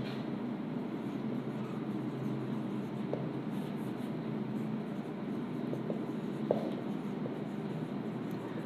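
Pen or marker writing steadily during a primary-school maths lesson on percentages, a continuous scratchy stroke texture with a couple of small taps, close and unbroken, no voices.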